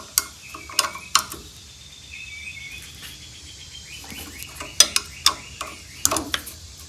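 Metal tools work loose the carburetor on an old VW Beetle engine, giving sharp ratcheting clicks and clanks in uneven bursts, with softer scraping between them, close and fairly loud.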